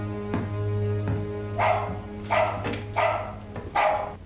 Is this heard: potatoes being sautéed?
no